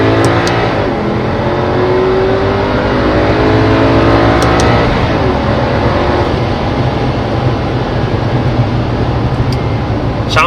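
Mercedes CLK63 AMG heard from inside while driving, a steady, loud engine drone and exhaust note that rises in pitch as it accelerates, then holds a continuous rumble with road noise throughout.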